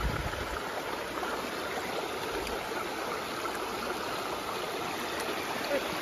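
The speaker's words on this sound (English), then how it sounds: "Love how that water's coming over that rock right there." Shallow stream water pours steadily over a rock outdoors, a close, continuous rushing and splashing wash with no pauses.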